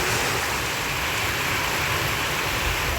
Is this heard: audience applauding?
no